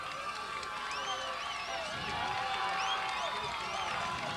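Two football crowds cheering in the rain at a 1992 Class A high school game between Thornton Academy and Marshwood, a distant, steady wash of voices and whistles heard faintly across the field.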